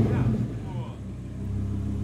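Deep, rumbling engine note from an Audi R8 sports car, loud and close, holding a steady low growl with a slight rise near the start, continuous across the short stretch.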